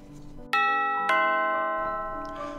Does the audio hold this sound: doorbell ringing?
yes